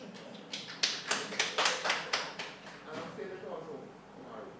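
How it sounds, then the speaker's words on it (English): A small group at an app launch claps in a brief round of applause, a handful of distinct, evenly spaced claps up close, then fading into quiet murmuring voices. "Give yourselves a round of applause"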